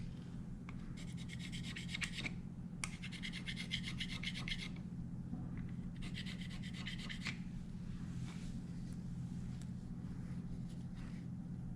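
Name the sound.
scraping sealant off Ducati Testastretta cam caps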